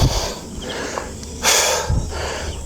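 Heavy, close breathing from a cyclist after an uphill ride to Grace Hill in Binangonan, Rizal: loud, rough breaths and snort-like exhales come in bursts, with no talk over them.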